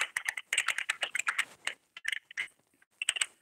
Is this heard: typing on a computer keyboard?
yes